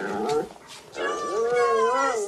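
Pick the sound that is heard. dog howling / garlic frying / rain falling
dog howling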